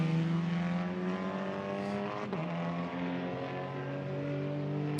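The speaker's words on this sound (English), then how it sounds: "Right, cars are back on track then." Touring cars in TCR Europe qualifying at the Nürburgring drone past, one high engine note holding steady with a brief pitch dip midway, a continuous mechanical roar.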